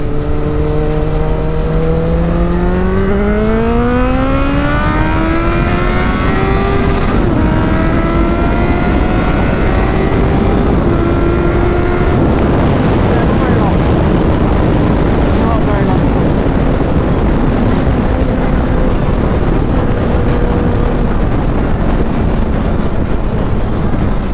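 Suzuki GSX650F motorcycle engine revving hard in second gear, its pitch climbing steadily during acceleration then levelling into a sustained loud drone with heavy wind noise, close to the rider.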